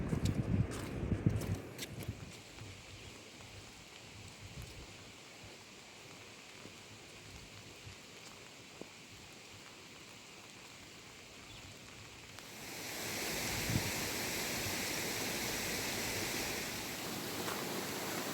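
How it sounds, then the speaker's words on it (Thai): Steady rain falling outdoors in rural Thailand, a broad even hiss that is fainter at first under some knocks and rustles, then swells noticeably louder and denser near the end. "วันนี้ก็ฝนตกเลยทุกคน"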